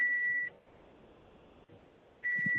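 On a phone call, two steady electronic beeps sound, one at the start and one at the end, each about half a second long, with faint line noise between them.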